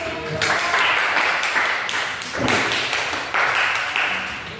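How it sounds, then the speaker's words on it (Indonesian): Classroom applause from students for a classmate who has just read a poem during a teaching practice session, a few bursts of scattered clapping and tapping that swell and fade, moderately loud in a small room. "boleh beri tepuk tangan dulu sama teman"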